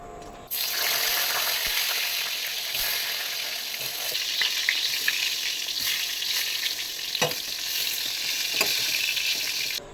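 Eggplant slices fry in a wok with a loud, steady, dense sizzle that starts abruptly and holds for the whole stretch, with occasional stirring scrapes and no talking.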